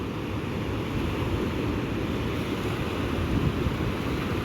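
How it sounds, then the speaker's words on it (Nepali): Swollen Tista River water at Melli rushes and swirls in a steady, broad roar, loud and continuous, with wind buffeting the microphone and no voices. "यो पानी आएर चाहिँ यहाँ चाहिँ यस्तो घुम्दैछ क्या"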